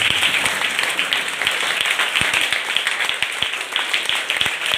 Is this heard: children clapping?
yes